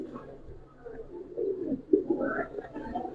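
Pigeons coo softly and continuously, close by, in low murmuring phrases with no talking over them.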